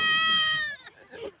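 A goat bleats loudly and close by in a hill-station setting, one drawn-out wavering cry followed by a quieter brief call, with people talking nearby.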